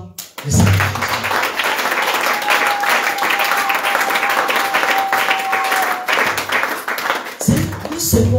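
A church congregation at a missionary gathering in Nkoteng, Cameroon, breaks into loud sustained applause and cheering, with voices mixed into the dense clapping for several seconds before it subsides.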